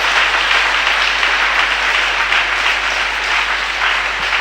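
A church congregation applauding loudly for Jesus, a dense, steady roar of many hands clapping at once that fills the whole stretch without letting up.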